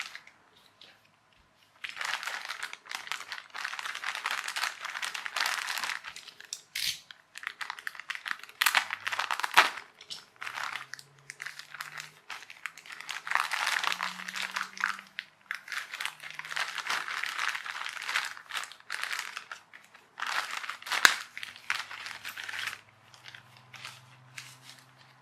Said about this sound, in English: I'll get a knife to trim off the flashing.